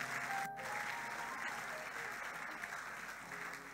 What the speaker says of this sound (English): If you want to clap, you can clap.